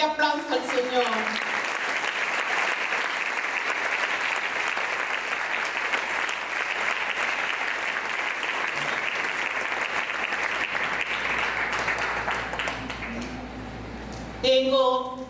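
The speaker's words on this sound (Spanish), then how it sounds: "Puedes dar un fuerte aplauso al Señor." A church congregation applauds loudly and steadily during a Spanish-language service, dense clapping sustained for about thirteen seconds before fading out.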